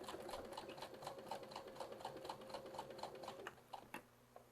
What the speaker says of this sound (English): Back stitching.